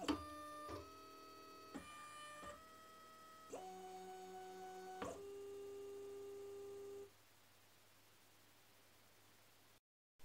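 A Tevo Michelangelo 3D printer runs very quietly, its stepper motors giving a string of short steady electronic tones that shift pitch in steps, then fall to a faint hiss before stopping.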